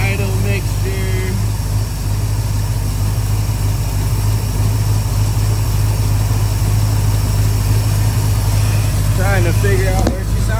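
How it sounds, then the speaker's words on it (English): A loud, steady 1979 Chevrolet El Camino engine idle rumbles continuously throughout, close up, on a newly installed carburetor with its idle mixture being adjusted, pitch holding even, a few short mechanical chirps near the end. "now I'm playing around with that idle mixture"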